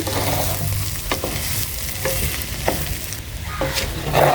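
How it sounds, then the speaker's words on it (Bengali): Rice and lentils fry with fish in a pan for khichuri, a steady sizzle running throughout with occasional scraping stirs of a spoon, close and fairly loud, no voices. "অনেক সময় ধরে সুন্দরভাবে ভেজে নিচ্ছি"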